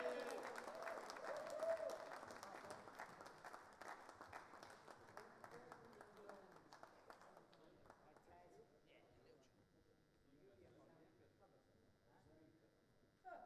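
Crowd applause and cheering at a darts tournament for player Danny Noppert, dense clapping loud at first and gradually thinning and fading toward the end, with a voice talking over it.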